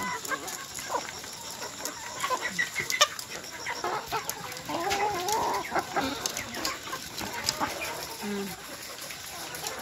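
Several layer chickens cluck steadily in a busy outdoor poultry farm yard, with scattered bird calls and faint background voices mixed in.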